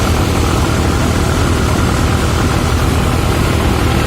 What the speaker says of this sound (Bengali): ছেড়ে দিল আমাদের লঞ্চ।